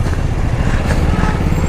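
A BMW F 850 GSA motorcycle rides along at steady speed, its engine a loud, continuous rumble mixed with road and wind roar, heard close from on the bike.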